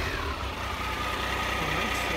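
A 2001 Triumph Sprint RS 955i three-cylinder motorcycle engine idling during a coolant flush, a steady, low, throbbing rumble held close and even for the whole short stretch.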